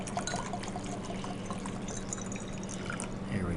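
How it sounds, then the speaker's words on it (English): Water pours steadily into a glass beaker, a continuous close splashing trickle lasting a few seconds with no talking. "I'm going to pour some water into a second beaker."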